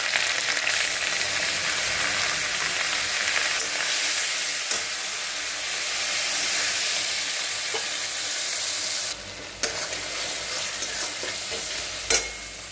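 Ginger, cumin and chili pastes frying in a pan, a loud, steady close sizzle with constant stirring, briefly dipping and picking up again near the end.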